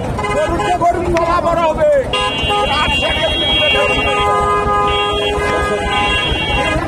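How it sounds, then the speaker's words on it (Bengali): Busy roadside noise beside a cattle market in Bogura, with vehicles rumbling past and a horn tooting, mixed with the babble of people talking nearby. "রাস্তার পাশে আজকে দাঁড়াইছি। প্রচুর গাড়ি যাচ্ছে।"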